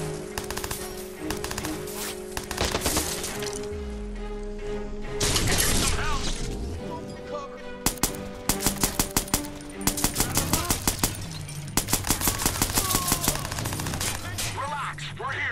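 Suppressed gunfire rattles through a Watch_Dogs gunfight in sharp rapid bursts, loud and close, with regular repeated shots near the end, mixed with game music and talk.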